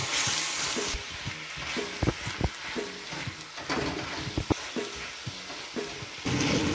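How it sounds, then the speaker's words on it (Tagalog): Chicken breast and shrimp stirred in a hot pan for pancit, a close steady sizzle broken by sharp utensil scrapes and clacks against the pan, with no talking. "hihalo na po natin yung ating breast chicken and shrimps"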